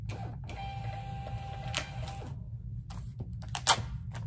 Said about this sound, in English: Let me make sure this stuff is straight going in the printer.